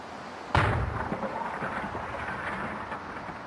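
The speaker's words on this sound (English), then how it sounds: "The explosion doesn't make any difference." A single sharp explosion bursts out after a brief quiet moment, then a long rumbling roar lingers and slowly settles into a steady low din.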